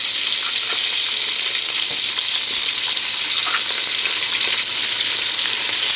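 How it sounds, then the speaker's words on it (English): Pork jowl and salt pork fry in a pot of hot oil. The sizzle is loud, close and dense, a steady hiss with scattered crackles and no talk. "I'm going to drop in my pork jowl and my salt pork and let that fry."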